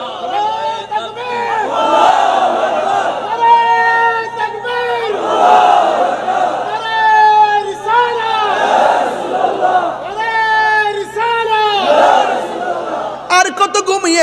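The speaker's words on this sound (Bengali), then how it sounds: "স্লোগান দেবে না?" A crowd at an Islamic sermon in Comilla chants religious slogans in unison, loud rhythmic call-and-response bursts repeated several times close by, filling the space with massed voices.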